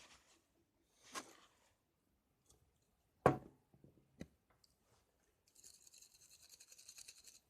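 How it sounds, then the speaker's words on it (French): A wire brush scrubs a grimy engine during cleaning: a few isolated scratchy strokes and clicks, then a run of quiet rapid back-and-forth scrubbing, faint and close. "Un petit coup de brosse métallique."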